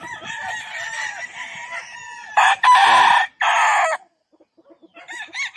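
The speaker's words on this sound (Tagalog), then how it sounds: "Mga magagandang manok." A gamefowl rooster crows loudly in several long calls, with other hens clucking and calling nearby between the crows.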